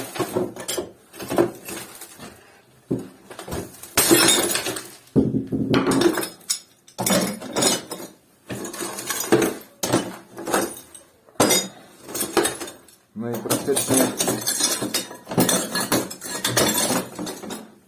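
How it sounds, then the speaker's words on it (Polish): Thick CRT television picture tube glass being smashed, a long run of loud crashing, clinking and tinkling shards in repeated bursts separated by brief pauses. "Też się idzie dostać z środka telewizora, rozbijając ten kineskop"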